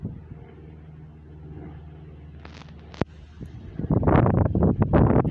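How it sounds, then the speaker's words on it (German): Wind buffets a microphone on a train platform at Aachen Hauptbahnhof, a low rumbling gust that builds into loud, ragged bursts toward the end, with a sharp knock midway. "Der Wind ist angenehm."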